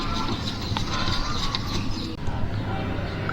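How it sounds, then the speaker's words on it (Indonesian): A number 10 wrench tightens a bolt on a custom iron luggage-handle mount for a boxy Suzuki Karimun. A close, steady ratcheting creak runs unbroken, with no voices. "Kemudian kita pasang bautnya. Ini pakai kunci nomor 10. Kita kencangkan."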